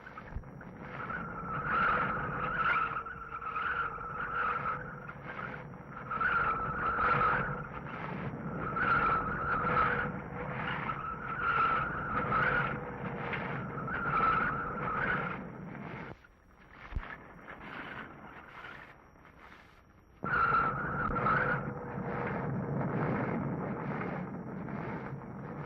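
A car works down the eight hairpin turns of San Francisco's crooked street, its engine droning with steady rhythmic pulses and a brief near-silent gap before the sound resumes.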